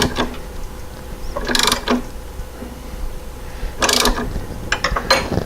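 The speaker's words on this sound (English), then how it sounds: "My 30 millimeter wrench down there on the flywheel nut, the pulley nut." A 30 mm wrench ratcheting on the flywheel pulley nut of a Porsche 912 engine, two separate bursts of clicking metal turns with quieter workshop hum between them, close and alone.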